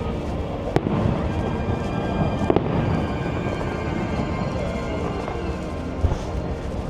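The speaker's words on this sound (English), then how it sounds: "We got the fireworks show going behind us" A fireworks show bursts over EPCOT on a cold night, a dense, continuous rumble of distant explosions with a few sharper cracks standing out.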